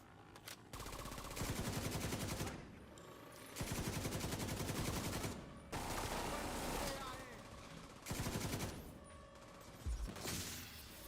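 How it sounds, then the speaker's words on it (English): Gunfire in the video game The Division 2, several loud sustained automatic bursts separated by short gaps, with quieter mechanical clatter between them. "I need more ammo! I'm under fire!"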